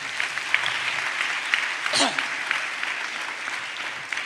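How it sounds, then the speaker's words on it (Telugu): A church congregation at a pastor's sermon claps together, a dense even patter of applause lasting the whole moment, fairly loud and close, with a brief voice cutting in partway through. "చప్పట్లు కొడదాం గట్టిగా"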